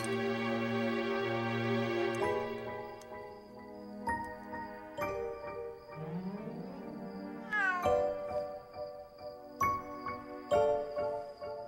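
A cat meows in drawn-out, wavering cries that rise and fall, with some faint tinkling in between, over about twelve seconds.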